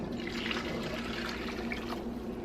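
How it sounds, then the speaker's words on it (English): Hot casserole sauce with peas pours from a very hot pan over cooked noodles for a tuna noodle casserole, a close, steady liquid gurgle and splash that continues without pause. "we're going to pour this right over our noodles"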